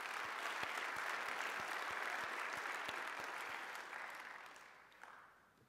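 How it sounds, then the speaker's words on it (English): Symposium audience applauding a panel of speakers, dense sustained clapping from a roomful of people that holds steady and then gradually fades out toward the end. "So let's have a round of applause for all of our panelists."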